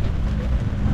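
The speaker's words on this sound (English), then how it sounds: "it's still a bit too rainy to film" Rain falls during a wildlife filming safari in Chobe, a steady, dense hiss with low rumbling wind buffeting the microphone, loud and continuous with no voices.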